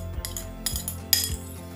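Utensils clink and scrape against a bowl as a vegetable salad topped with cheese and dressing is stirred together, a few distinct close clinks spaced out over a steady soft rustle.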